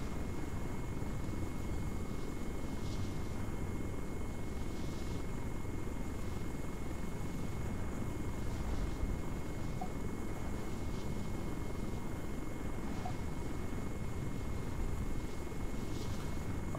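Helicopter flying in the video game ARMA 3: a steady, loud rotor and engine drone with a faint regular pulsing, continuous and alone without talking.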